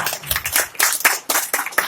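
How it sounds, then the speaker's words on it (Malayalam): A crowd at a public event gives brief applause for a speaker, a short burst of scattered hand claps in uneven clusters, close and moderately loud, with no speech over it. "അദ്ദേഹത്തിന് നമ്മളെല്ലാവരും ചേർന്ന് നല്ലൊരു കൈയടി കൊടുക്കാം."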